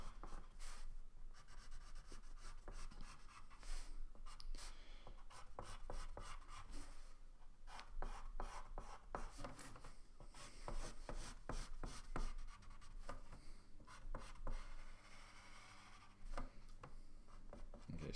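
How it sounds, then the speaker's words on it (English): Darker pencil scratching steadily over lines on paper during freehand technical sketching, a continuous close rasp of graphite with irregular strokes and no speech. "So I'm going to get the darker pencil, which I've already had, and then just to go over the line"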